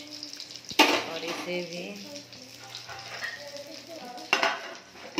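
Wheat-flour dough fries and sizzles in ghee in a pan, with a steady crackle under a voice and a couple of sharp utensil clinks against the pan.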